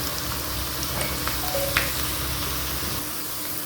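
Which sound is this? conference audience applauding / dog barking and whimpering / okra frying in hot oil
okra frying in hot oil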